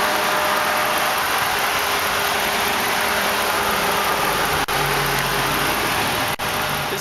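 A 5.7-liter Hemi V8 in a 2009 Dodge Ram Sport Crew Cab idles steadily nearby, a constant low mechanical hum and whir with no talking.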